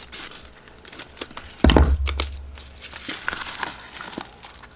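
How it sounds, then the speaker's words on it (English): A Temu craft supplies package is cut open: a sharp crinkling rip near the middle, then softer rustling and crackling of the plastic wrapping fading off, close by. "I'm gonna have to cut this open."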